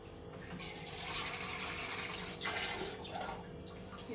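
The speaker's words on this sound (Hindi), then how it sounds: "ये थोड़ा सा सवा बाउल हमने पानी का डाल दिया है इसमें।" Water is poured from a bowl into sugar in a kadai to make syrup for besan boondi laddu, a continuous close splashing, gurgling pour that swells midway and carries on to the end.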